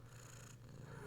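A cat purrs softly and steadily up close, a low continuous rumble while being cuddled indoors, with no talking over it.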